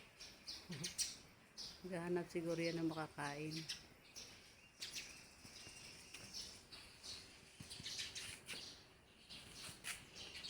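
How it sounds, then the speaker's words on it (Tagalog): Birds chirp and tweet repeatedly nearby, busy and noisy, while a person talks and laughs over them. "maririnig mo mga ibon, no? Oh. Ayan, dalawang ibon. Maingay."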